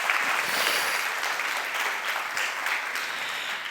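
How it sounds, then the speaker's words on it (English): Steady audience applause at a creativity forum plenum in Stuttgart, a continuous dense wash of clapping heard at moderate distance for nearly four seconds, with no talk over it. "so big applause"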